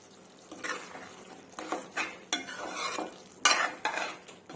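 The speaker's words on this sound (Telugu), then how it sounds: "ఒకసారి కలిపేసుకుందాము." A spoon stirs chole masala curry in a pan after the garam masala goes in, giving a series of scraping, wet strokes against the metal with a light sizzle underneath, close and fairly quiet.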